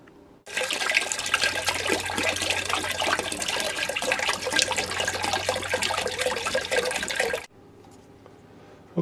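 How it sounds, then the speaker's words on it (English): Water draining back out of a Noritz tankless water heater through clear hoses after the supplies are shut off, a steady rushing, gurgling flow that runs loud and continuous for about seven seconds before cutting off sharply. "That's just water that's draining back down out of the water heater now, since the water supplies are off."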